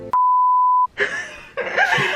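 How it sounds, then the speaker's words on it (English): A camera gives a single loud, steady electronic beep lasting under a second, then cuts to a quieter stretch of muffled noise and rustling. "before it cut off, it made a beep noise"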